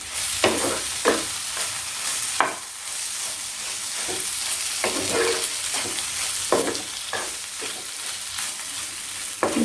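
A spoon scrapes and stirs mashed potato into a fried prawn mixture in a pan, with repeated stir strokes over a soft background sizzle.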